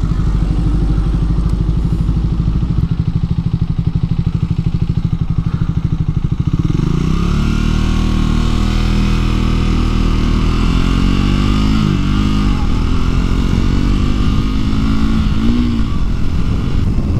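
A Triumph Speed 400 motorcycle engine idles with a steady low rumble, then revs up and down several times, loud and close, with no talking.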